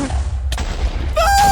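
A TNT cannon fires in Minecraft with a sharp boom, followed by a brief crackling blast and a rising tone, loud and close.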